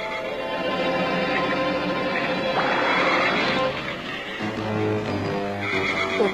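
Winged horses neighing in an animated cartoon: a drawn-out whinny rises and falls over a dense, busy soundtrack of music and effects, fairly loud and close, with no speech.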